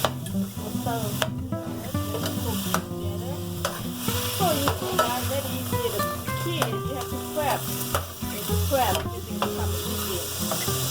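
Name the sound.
green curry paste sizzling and stirred in pan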